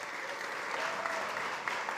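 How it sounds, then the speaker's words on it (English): Audience applause at a Food Tank event during SXSW, a steady dense clapping from a crowd over a couple of seconds. "please give them a round of applause."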